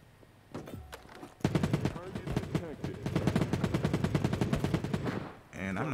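Light machine gun gunfire in the shooter game Battle Prime, sustained rapid automatic bursts up close and loud, preceded by scattered shots, with game sounds and a voice talking over it.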